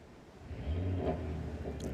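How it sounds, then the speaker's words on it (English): A race car doing a big burnout at a track day with race tyres, its engine revving loud and steady with a rising surge midway, a rough mid-pitched roar sustained throughout without talk. "Big old burnout there by Daniel Jacobs"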